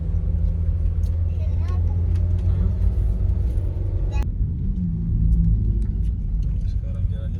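A Honda Freed car climbs uphill in first gear, its engine giving a steady low rumble from inside the cabin, with a brief change in tone midway, while people talk over it.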